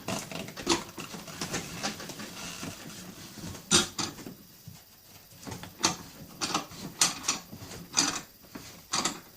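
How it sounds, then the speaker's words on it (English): Clicking, ratcheting metal mechanism sounds while tightening down a Matco tire split rim, uneven clacks and rattles at moderate level with short pauses between them. "I'm going to tighten both sides down so it doesn't slide off."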